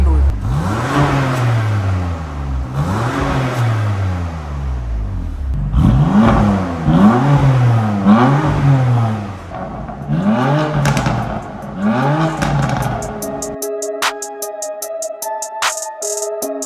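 A BMW M2 on its stock exhaust with the valves closed revs repeatedly, sharp rising and falling engine blips in quick bursts, loud and close, with a clattering, whirring patch near the end.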